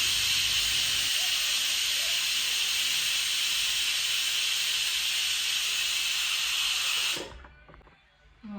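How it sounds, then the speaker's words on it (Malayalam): A pressure cooker whistles with a loud, steady high-pitched hiss of steam for several seconds, then cuts off abruptly, leaving quiet kitchen noise. "വിസിൽ വന്നിട്ടുണ്ട്. അപ്പോൾ അതുകൊണ്ട് ഇനി കുക്കർ ഓഫാക്കി വെക്കാം."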